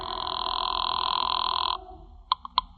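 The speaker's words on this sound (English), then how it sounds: "I used the phone to raise the line" An old telephone rings with a loud sustained electric bell that stops abruptly, followed by a few short clattering knocks as the receiver is handled, no talking.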